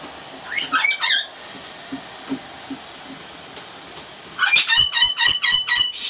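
A bird squawks in two harsh bursts, a short squawk early and then a longer run of repeated loud squawks later, close by over a quiet background with faint tapping.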